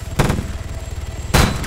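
Bursts of game gunfire aimed at a helicopter in Arma 3, two loud broadband blasts at the start and near the end over a steady low rotor-like rumble, with no talk.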